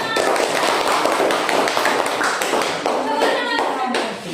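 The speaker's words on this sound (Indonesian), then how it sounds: "Tepuk tangan untuk kelompok 3." Classroom applause for a presenting student group, many hands clapping in a dense, lively burst close by, continuing steadily throughout with a few voices mixed in.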